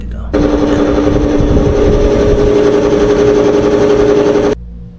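A noisy air conditioning unit with a loose fan runs with a steady drone and strong tonal hum, starting abruptly, holding for about four seconds and cutting off sharply.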